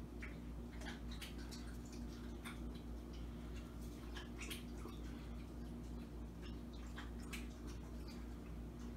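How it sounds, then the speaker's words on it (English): A dog laps drinking water loudly and close by indoors, a steady run of wet, clicking tongue strikes over a constant low hum. "My dog is drinking water."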